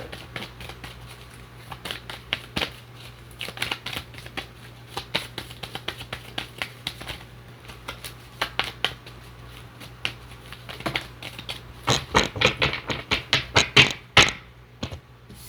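Tarot cards being shuffled by hand to draw a single card, giving a long run of dry, close flicks and riffling taps that thicken into quicker bursts near the end.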